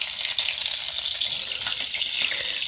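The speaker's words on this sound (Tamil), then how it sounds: "இப்போ வந்து பச்சை மிளகா வந்து போட்டுக்கலாம்." Green chilies crackle and sizzle in hot oil in a pan, a steady bright hiss with small pops running throughout, close and fairly loud, with no voices.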